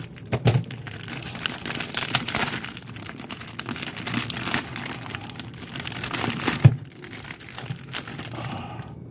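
A plastic acid pack for a new motorcycle battery is handled and opened, producing close crinkling and crackling of plastic with a few sharper snaps, quiet between bursts.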